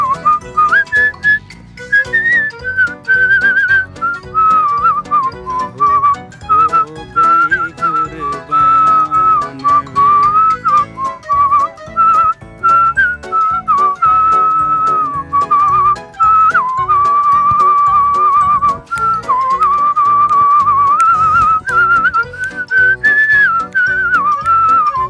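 A Pakistani man whistles a Heer Ranjha melody, a loud, clear, continuous tune with wavering pitch that carries on without pause for the whole stretch.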